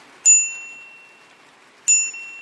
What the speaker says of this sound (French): La petite sonnette.